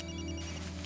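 A telephone rings with a steady electronic tone, fairly faint and continuous over a short span indoors, with no talking.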